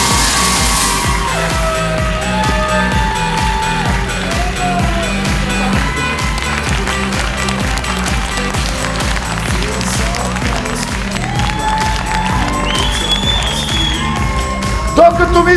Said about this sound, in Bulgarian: Силни аплодисменти за прекрасната Нанси!